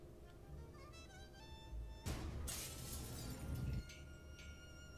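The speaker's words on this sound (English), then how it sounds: "I got rid of the glass above the door to the lab." Glass shatters above a lab door in the video game Gibbous - A Cthulhu Adventure, a crash with scattering shards lasting nearly two seconds over a steady musical background.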